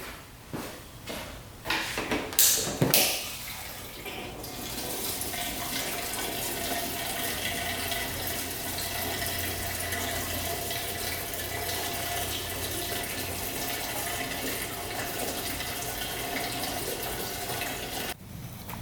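Two-stroke fuel premixed at 40:1 is poured into a dirt bike's tank, giving a steady liquid trickle that runs unbroken for about fifteen seconds after a few clunks at the start.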